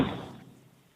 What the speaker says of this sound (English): He's pounding on the door.